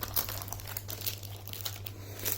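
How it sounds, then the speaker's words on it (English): A new paper pack with gold foil work is flipped through quickly, giving close, crisp rustling and crinkling of sheets in rapid bursts for a couple of seconds. "we have this paper pack. This is also new. Quick flip through."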